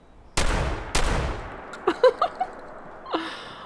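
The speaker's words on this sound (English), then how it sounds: "I can get right up close and shoot you in the face." Two loud, sharp gunshots in Fallout 76, fired at close range about half a second apart with echoing tails, followed by a few smaller pops and grunts from the enemy.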